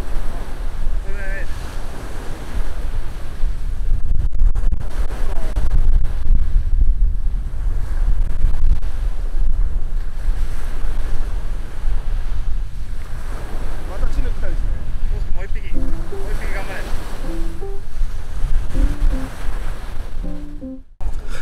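Strong wind buffets the microphone at a seaside fishing spot, a constant roaring rush mixed with surf, loud and steady throughout with faint voices now and then beneath it.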